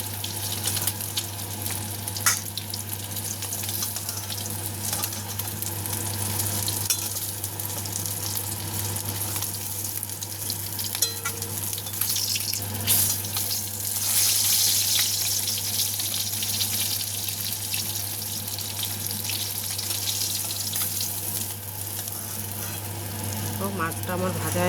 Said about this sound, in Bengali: মাছের পিসটা কিন্তু একটু মোটা বেশি, তাই এটাকে একটু ভালো করে ভাজতে হবে